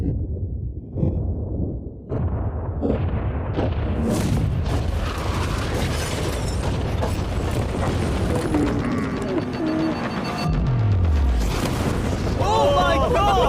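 A yacht is blown up, giving a deep, rolling boom with a long rumbling tail, followed by crackling debris and lingering noise while people shout and talk over it.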